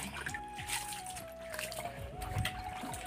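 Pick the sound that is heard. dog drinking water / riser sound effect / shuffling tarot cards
dog drinking water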